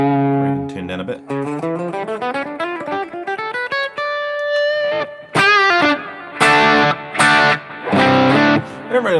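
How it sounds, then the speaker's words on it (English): An electric guitar plays sustained, gritty notes and sliding chords with a driven, distorted tone, loud and close, notes ringing into each other. "I really like distorted guitar sounds."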